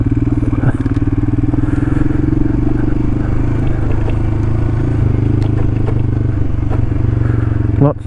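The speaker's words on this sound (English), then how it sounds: "Lots of things jumping around in the panniers." Luggage rattles and clatters inside motorcycle panniers over the loud, steady drone of the riding motorcycle, continuous and close throughout.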